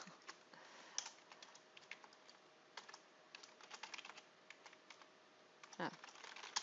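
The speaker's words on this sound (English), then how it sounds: "if I can type my name." Fingers tap out a name on a computer keyboard while setting up user accounts in Active Directory, giving an irregular run of light, close keystroke clicks in quick bursts with short pauses over a quiet room hum.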